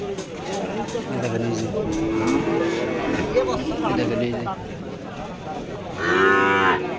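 Dairy cows and their calves at a cattle market moo in loud, drawn-out calls, with one bellow rising near the end over steady crowd chatter and people talking.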